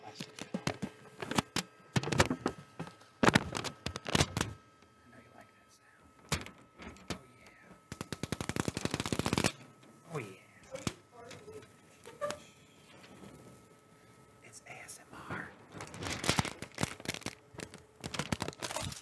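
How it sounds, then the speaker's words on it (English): Protective plastic film peeled off the surface of a Creality CR-X 3D printer: quiet, close crackling and tearing rustles in irregular bursts, with a longer continuous peel partway through and brief pauses between. "It sounded like plastic being peeled off of a surface."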